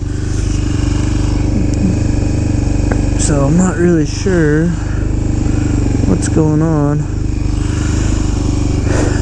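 A Suzuki DRZ motorcycle with a smoking exhaust and an oil leak runs at a steady, loud idle close by, while someone talks over it.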